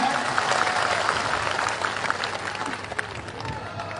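A crowd at a Bundeli festival political rally in Rajnagar claps in a dense, sustained burst that slowly thins out over a few seconds.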